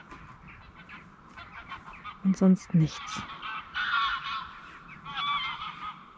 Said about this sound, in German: Hier oben ziehen gerade die Gänse noch durch.